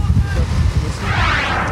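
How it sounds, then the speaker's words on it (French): Wind blows hard across the microphone outdoors at a car event, a steady loud buffeting rush with low rumble and hiss filling the short stretch. "ça se passe bien malgré le vent, mais il y a du beau temps"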